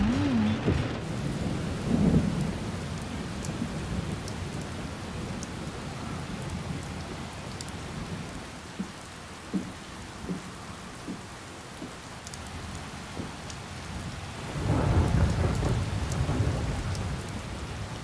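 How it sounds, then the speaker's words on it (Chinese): Steady rain falls on outdoor surfaces for the whole stretch, with low thunder rumbling at the start and again swelling loudly near the end; no one speaks. "下雨了。"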